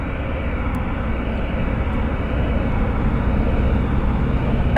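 Jet aircraft taxiing at Washington Dulles airport, a steady, loud broadband engine roar that holds constant throughout with no talk over it.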